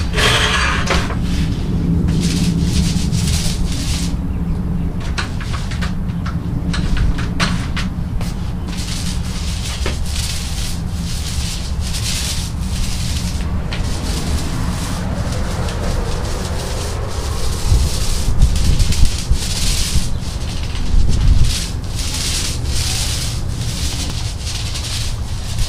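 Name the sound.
rolling Behr Granite Grip coating onto a concrete patio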